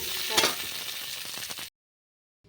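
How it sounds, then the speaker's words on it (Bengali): Potatoes for aloo dum fry in a pan, with a loud close sizzle and a few stirring scrapes that stop abruptly partway through, followed by silence. "আমার আলুগুলো মোটামুটি ভাজাভাজি হয়ে গেল, আমি এবার আলুগুলো নামিয়ে নেব বন্ধু।"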